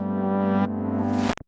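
A sustained buzzy synth tone grows grittier and noisier as a bitcrusher's automated bit depth shifts its digital crunch, then cuts off abruptly at the end.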